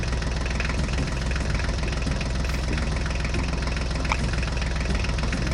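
A John Deere tractor's diesel engine runs steadily at idle, a loud, close, continuous low knocking rumble with no breaks.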